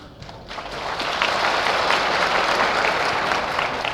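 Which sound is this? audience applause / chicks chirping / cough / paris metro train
audience applause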